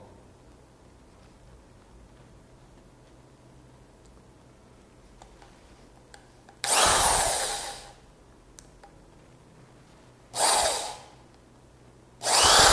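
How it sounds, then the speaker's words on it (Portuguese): Electric drill used on an air rifle cylinder whirs loudly in three short bursts after a quiet stretch of faint clicks, with one brief spoken word early on. "Está aqui a furadeira."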